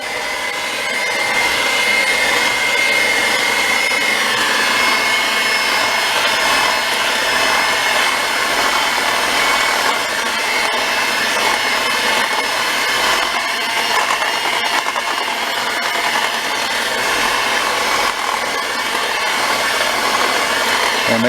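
Coconut poke cake batter being mixed with an electric hand mixer, a steady whirring motor drone running continuously and fairly loud, with no talking.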